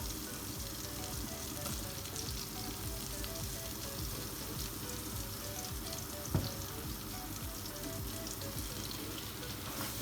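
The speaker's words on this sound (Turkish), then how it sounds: "Unumuzu güzelce kavuralım." Flour toasting in melted butter for a minced-meat dish, a steady soft sizzle running throughout at low level, with one brief scrape of a utensil partway through.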